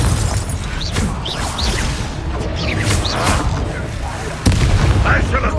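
A Confringo explosive spell in Hogwarts Legacy sets off repeated booming blasts and crackling impacts amid chaotic battle noise, with a sharp louder burst near the end, close and dense throughout.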